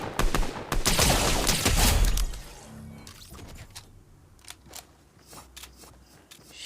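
Rapid gunfire in a tank video game, with dense crackling bursts early that thin to scattered single shots, close and loud, with no talk.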